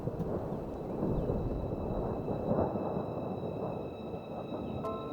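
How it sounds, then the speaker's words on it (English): Thunder rumbles in a storm over a high, open expanse, a continuous low roll that stays steady and moderately distant for the whole stretch, with a faint tonal whine above it. "lightning flashed in the distance, and thunder began rumbling across the high expanse"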